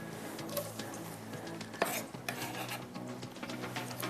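Sliced onion drops into hot oil in a pan and is stirred, with a quiet sizzle under repeated scraping and clinking of a spoon against the pan.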